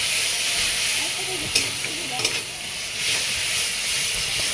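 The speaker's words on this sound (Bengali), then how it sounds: "আদা রসুনটা দিয়েও ভালো করে এখন আমি সাঁতলে নেব" Crushed ginger and garlic sauté in a pan for egg curry, giving a steady close sizzle and hiss with a few clinks of a stirring utensil.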